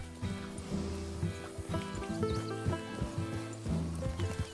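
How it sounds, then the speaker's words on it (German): A mule painted as a zebra in the video game Red Dead Redemption 2 makes horse-like snorts and whinnies, with hoof clops mixed in over a tonal game soundtrack, fairly loud and close. "Das Maultier, eine Kreuzung zwischen Pferd und Esel. Und das wurde angemalt als Zebra."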